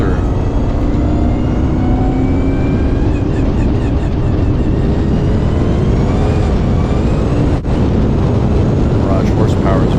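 A Ford Roadster land speed race car in the D fuel roadster class, powered by a Chevrolet V8, makes a record run on the El Mirage dry lake. Its loud, dense, unbroken engine roar fills all ten seconds and builds steadily.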